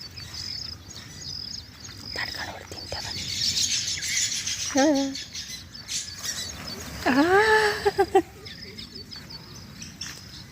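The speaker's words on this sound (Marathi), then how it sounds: "सुग्रण पक्षी सगळे" Baya weaver birds chirp and tweet close by in short bursts, with a few clear rising calls among busy background twittering.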